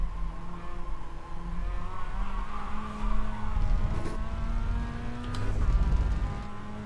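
Sim racing video game car driving with engine drone and shifting tones, tires skidding and squealing through corners, steady and close with swells around the middle and end.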